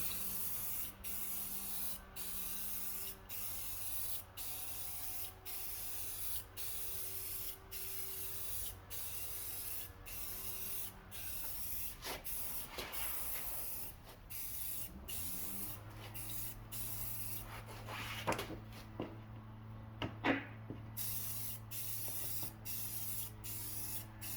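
Clear coat is sprayed onto a car headlight from a can, starting at the bottom. A steady, close hiss holds for the whole stretch, pulsing in short regular bursts, and grows a little rougher near the end.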